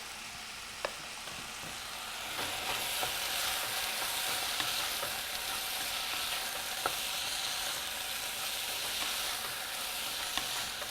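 Spices (cayenne, coriander and turmeric powder) being stirred and frying in a pan, a steady close sizzle with scraping stir strokes and a few sharp clinks, swelling slightly after the first couple of seconds.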